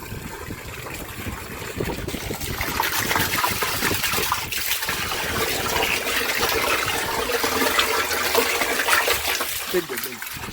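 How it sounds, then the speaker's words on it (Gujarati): Water pours steadily into a tank of about 300 litres for a drip treatment on a chilli farm, a loud, unbroken gushing rush that grows fuller as it fills, with voices faintly mixed in. "તો હવે મિત્રો અંદાજે આપણે 300 લીટર પાણી લેવાનું છે."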